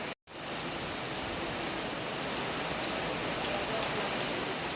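Heavy rain falls onto water beside a church compound in Kerala during a fishing outing, a steady soft hiss of drops on the surface with a few faint patters, after a brief cut at the start.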